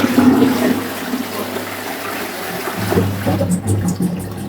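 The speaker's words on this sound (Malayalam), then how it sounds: "നമ്മൾ ഫ്ലഷ് അടിക്കുമ്പോ വെള്ളം നിറഞ്ഞു വരികയാണ് ഇങ്ങോട്ട്" A toilet being flushed in a bathroom with a blocked drain, water rising back up: a close, steady gurgling rush and trickle that continues throughout, with a voice faintly present early on.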